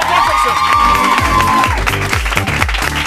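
A crowd cheers and applauds an a cappella performer at a Coca-Cola Music Experience session, with loud claps, whoops and shouts running continuously through the short burst, while a sustained sung or shouted tone rises above the noise early on.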